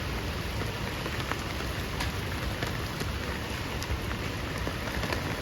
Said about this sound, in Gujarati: આજે ત્રીજો દિવસ વરસાદનો સુરતમાં.